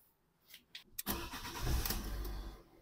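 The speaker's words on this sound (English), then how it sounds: "I'm going to start the car." A Fiat 500 engine cranks briefly after a few faint clicks, then catches and settles into a close, loud running idle, with no talking.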